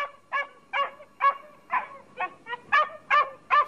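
A dog barks in a Czech radio play of Robinson Crusoe, about nine sharp, evenly spaced barks at close range, standing alone with no talking over them.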